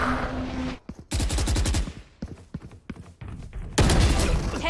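Rapid bursts of gunfire from a tactical shooter video game, sharp repeated shots in clusters separated by short gaps, loud and close, with a louder burst at the end.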